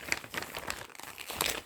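Stamped cross-stitch kit being unwrapped from its plastic packaging, with close, continuous crinkling and tearing rustles in short bursts, no talking.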